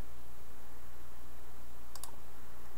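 A computer mouse clicks a button in Flash software: two or three quick, sharp clicks close together near the end, over a steady background hiss.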